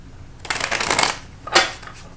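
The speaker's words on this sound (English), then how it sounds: "I'm going to shuffle again." A deck of tarot cards being shuffled by hand: a crisp riffling burst lasting about half a second, a short pause, then a second quick riffle, close and clear in a quiet room.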